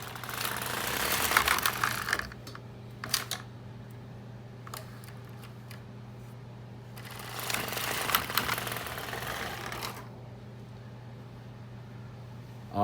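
A double bed knitting machine knitting rows: the carriage sweeps across in two long rattling, whooshing passes, separated by quieter stretches with a low steady hum underneath.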